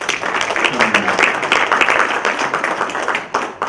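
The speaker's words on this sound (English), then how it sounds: "give another round of applause to all of our candidates" An audience at a judicial candidate forum claps for the candidates in dense, sustained applause running throughout, with some voices mixed in beneath the clapping.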